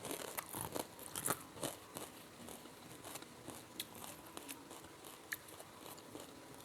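Biting and chewing crunchy fried wonton wrappers over Indomie noodles: close, quiet crackly crunches in an irregular rhythm, with sharp bites followed by softer chewing and no talk.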